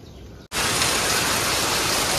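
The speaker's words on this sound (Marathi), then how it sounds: "इतका पाऊस आहे की कंटाळा आला आता पावसाचा" Heavy monsoon rain pouring in the Konkan region, a dense hiss that cuts in abruptly after a short quieter stretch and then holds steady and loud to the end.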